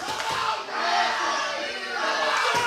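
A wrestling crowd at a Veteran's Day Special event roars and cheers for Northside, a dense, sustained wall of voices filling the hall with a brief dip partway through before swelling again.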